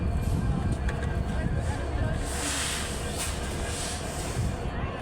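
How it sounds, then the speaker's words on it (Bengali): Steady rumbling of trains at Jessore railway station, Bangladesh, with hissing swells and a voice talking over the busy background noise. "যশোর রেলওয়ে স্টেশনে আমরা এখন দাঁড়িয়ে আছি"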